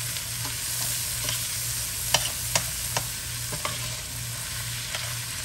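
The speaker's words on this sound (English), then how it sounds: "You get the rest of the butter going in here. And then just saute your onions and your peppers." Onions and peppers sauteing in butter over medium-high heat, a steady close sizzle with a low hum and occasional clicks and scrapes of stirring.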